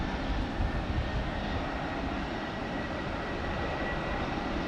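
An airplane passes at Brisbane airport with a steady, loud roar of its engine. The rumble holds evenly throughout, with no talking over it.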